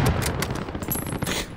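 Rapid gunfire bursts in the battle royale video game Call of Duty: Modern Warfare Warzone, a dense rattling stream of shots that is fairly loud and continuous, with no talk over it.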